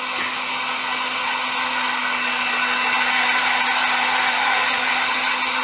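A blender grinds herbal remedy ingredients for a gout drink with honey until smooth, giving a loud, steady, continuous whirring drone that holds unchanged from start to finish with no voices.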